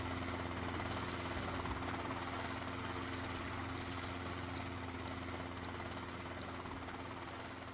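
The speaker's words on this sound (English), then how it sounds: "here comes their noisy helicopter." Noisy helicopter in a first-person survival video game, a steady rotor thrum and engine drone holding loud and near throughout, with no talk over it.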